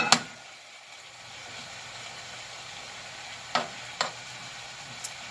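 A mushroom and pepper mixture simmers in a pan with a soft, steady low sizzle, broken by a few sharp clicks and taps near the start and later on.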